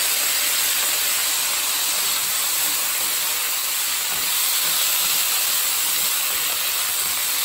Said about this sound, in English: this time you're also going to add some soy sauce